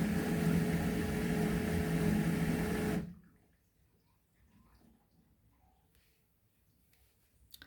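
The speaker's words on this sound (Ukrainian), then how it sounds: "Так, машинка трохи води признула." An LG F2V5GG9T washer-dryer draws in water with a steady rushing, humming flow for about three seconds. The flow then cuts off abruptly, leaving near silence with faint clicks and soft noises.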